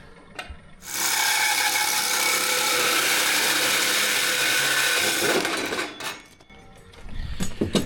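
A gutter cutter guillotine slices through metal gutter, giving a loud sustained grinding, rasping cut of about four seconds up close, followed by a few sharp clanks and knocks as the piece is handled.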